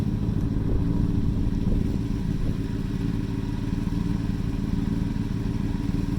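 A 2005 Honda CBR 600 sport motorcycle idles steadily and close by, its engine giving a continuous low rumble with light mechanical clatter and no voices.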